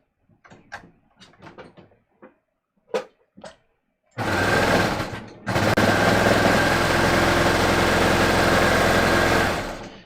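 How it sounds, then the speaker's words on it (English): A serger overlocks a short seam on a cashmere blend top, sewing over old serging. It runs as a loud, steady whir for several seconds, with a brief pause after starting, following a few soft clicks and handling sounds. "I'm just going to serge these again on top of the old serging"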